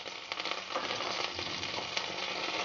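Onions, green chillies, turmeric and curry leaves frying in a pan, a soft, even hiss of oil crackling steadily for a few seconds at low volume, no voices.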